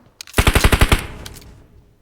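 Rapid burst of about seven gunshots from an automatic weapon in the mobile video game PUBG Mobile, loud and close, ending in a short trailing echo with no voices.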